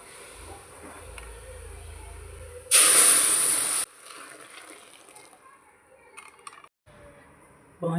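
Milk poured onto hot roasted poha for payasam sets off a loud, sudden hiss that lasts about a second, then fades into quieter bubbling and scattered kitchen noises.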